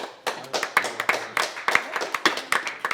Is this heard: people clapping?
yes